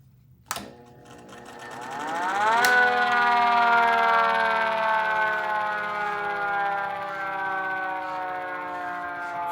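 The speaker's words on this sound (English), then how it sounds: "So yeah, it's basically a two-tone siren" After a sharp click, a mechanical 2T22 two-tone siren winds up into a loud sustained chord that holds steady and slowly starts to fade, with no voices.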